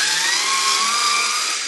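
A Dovaman E009A 4V cordless screwdriver backing out a screw whirs with a steady high-pitched motor whine, loud and close, holding an even tone for a couple of seconds.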